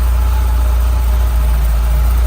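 A 1983 Ferrari Mondial QV with a 3-litre four-valve engine idles steadily, a loud, even low rumble that holds without revving.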